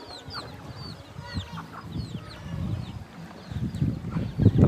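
Several chickens cluck and chatter up close in irregular bursts in a village in Laos, with higher calls scattered over them and the activity building toward the end.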